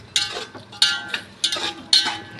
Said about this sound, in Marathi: पुन्हा एकदा हलवून घेतलेलं आहे।